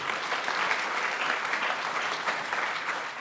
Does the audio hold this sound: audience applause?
yes